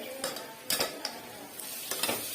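Whole chillies and spices are stirred in a sizzling pan, the spatula scraping in several quick, uneven strokes over a steady, close hiss.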